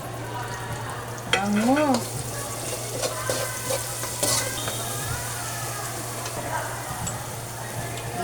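Onion dropped into a pan for chicken Bicol Express sizzles with stirring and clinks of a utensil, a steady hum running underneath, while a person briefly speaks over the cooking.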